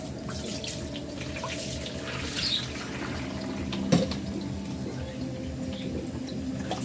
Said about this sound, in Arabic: درت بانيو تحت من الكسكاس وكتكب عليها الماء بارد كيف ما كتشوف